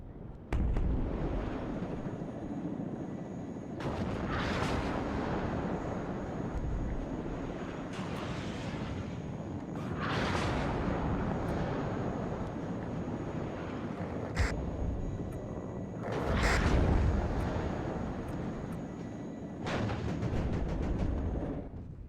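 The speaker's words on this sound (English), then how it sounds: "Nice, good artillery fire." Artillery fire in the WARNO strategy game during an airborne assault on a stronghold at Kassel: several heavy, broadband booming bursts recur every few seconds over a steady rumbling wind-like bed, loud and fairly near, with no talk.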